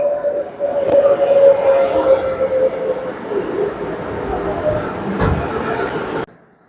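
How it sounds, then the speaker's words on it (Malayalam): A train pulls into a station platform with a steady, close rumble and a sustained humming whine, a brief knock around the middle, and faint voices in the background before the noise cuts off. "അങ്ങനെ നമ്മുടെ ട്രെയിൻ വന്നിട്ടുണ്ട്."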